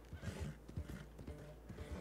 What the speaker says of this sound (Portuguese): O cavalo está com fôlego ainda, o Gigapims está com fôlego ainda.